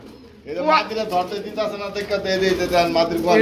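Pigeons at a market sale coo in a warbling, repeated throaty rumble that starts abruptly and continues steadily nearby, with people talking over them.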